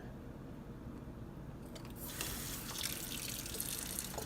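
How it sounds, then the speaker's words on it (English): Tap water pours onto crushed glass frit in a filter, starting as a faint trickle and then swelling into a steady, close splashing stream. "and then run some water over it."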